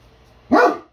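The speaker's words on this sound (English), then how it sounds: "You woofing up the neighborhood?" A pet dog indoors at home gives a single sharp, close bark that starts suddenly and fades quickly after a brief quiet stretch.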